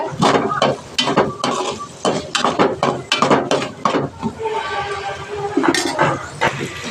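A utensil scrapes and clinks against a pan in quick, irregular strokes as sautéing onions are stirred, close by and fairly loud.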